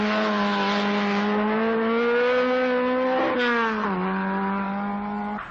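A Skoda rally car at the 1978 Rally Danube holds a strained, steady engine note that rises slightly, dips with a brief gear change, then settles lower as it drives past at moderate distance, with no voices over it.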